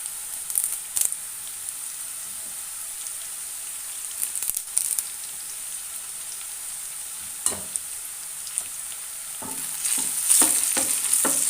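Onion, green chili, ginger and curry leaves with salt sauté in oil for a raw dates pickle: a soft, low sizzle broken by several sharp scrapes and clatters of stirring, busier toward the end.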